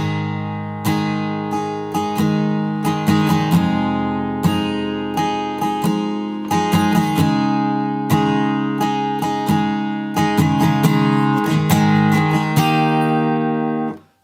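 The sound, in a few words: acoustic guitar playing the verse of a song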